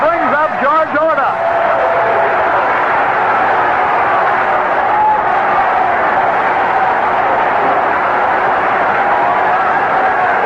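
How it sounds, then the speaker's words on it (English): A baseball stadium crowd cheers and murmurs in a continuous broad wash at a White Sox home game, heard behind a radio announcer's talk. "Crowd really enjoying it so far"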